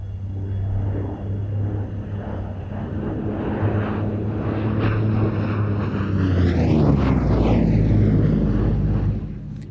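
A Lockheed P-38 style twin-boom, twin-engine propeller fighter from World War II passes by at the Mildenhall Air Fete with a steady loud engine drone that rises in pitch and peaks in a Doppler sweep as it goes overhead.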